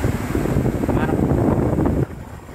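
An electric-powered car air conditioner's 404 evaporator blower fan runs in a garage test, making a loud, steady, close rushing whoosh that drops abruptly to a softer hum near the end.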